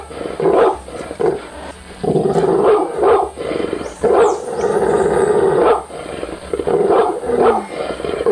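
Dog attacking, loud close snarling and growling in repeated aggressive bursts of roaring barks, with brief gaps between attacks.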